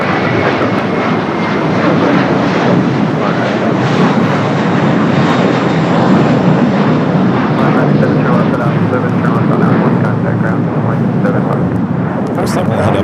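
A WestJet airliner at LAX airport produces a loud, steady jet engine roar that holds close and constant throughout, with broadband rumble and hiss.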